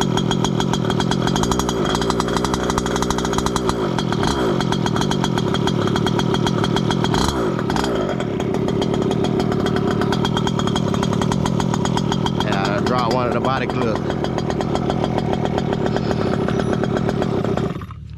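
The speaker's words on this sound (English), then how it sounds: "Gas powered. Stock Zenoa engine on it." A gas-powered Losi 5T 2.0 RC car with its stock Zenoah engine revs loud and close at a racetrack, a steady buzzing two-stroke drone with rising and falling throttle bursts, while a voice speaks briefly over it.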